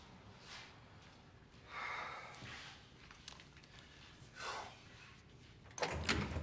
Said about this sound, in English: You please just open this door?